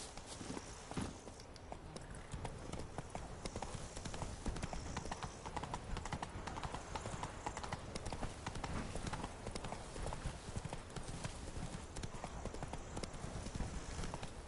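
Horse hooves clip-clopping in The Witcher 3 game, a continuous steady trot of hoofbeats close up that keeps going without pause, with faint background noise.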